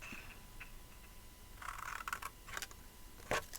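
Scissors snipping through a small paper gift box, a few crisp clicks and cuts in a quiet room, with a sharper snap near the end.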